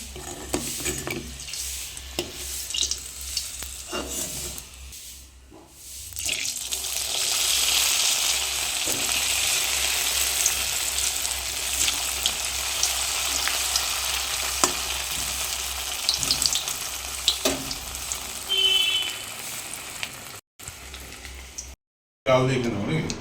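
Pitha rice cakes fry in a pan with a continuous, fairly loud sizzle and occasional utensil clinks, while people talk on and off over the frying.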